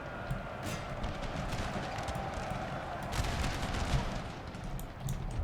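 Dense battle noise from Napoleon: Total War, with a steady roar of musket fire and artillery rolling continuously under scattered sharper cracks, loud and unbroken throughout with no pauses.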